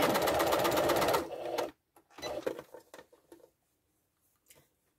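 An electric sewing machine stitching upholstery piping whirs in a fast, loud, even run for under two seconds, then stops, followed by soft handling clicks and rustles of fabric before going quiet.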